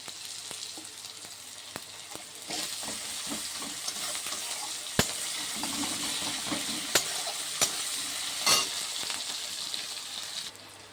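Ingredients with turmeric sizzle and fry in a pan, broad steady hiss broken by sharp scrapes and clacks of a spoon stirring, close and fairly loud with no talking.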